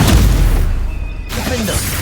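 The Bombarda blasting spell in the video game Hogwarts Legacy lands as a loud, close boom with a sharp burst at the start, a brief dip, then rumbling debris.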